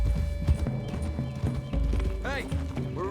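Horses in Red Dead Redemption 2 with rapid clip-clop hoofbeats and a whinny near the end, close and steady under game music and talk.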